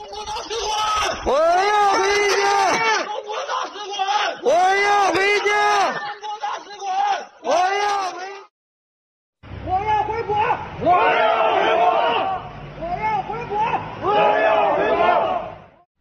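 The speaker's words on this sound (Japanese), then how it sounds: "数十人の中国人が中国当局に中国国民としての基本的な権利を求め叫んでいた" Dozens of Chinese people shout together outside the Chinese embassy in Nepal, a loud, continuous crowd of bellowing chants in repeated bursts with a brief gap of silence before the shouting resumes.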